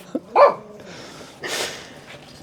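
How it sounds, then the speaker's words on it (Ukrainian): A nervous dog gives a single sharp, loud bark at close range beside a ceramic charcoal grill being lit, followed by a softer breathy huff and then quiet rustling. "Собака перенервував."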